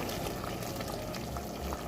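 Hot water pours steadily and closely into a pan over pork chops for a pilaf, giving a continuous liquid rush with a faint bubbling sizzle.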